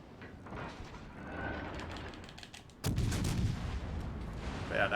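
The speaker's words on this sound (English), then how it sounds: "That guy's shooting AP." Naval gunfire in World of Warships Legends, with a Soviet battleship engaging while enemies fire AP shells: a low, distant rumble of fire builds, then a single heavy close boom breaks out and rolls on.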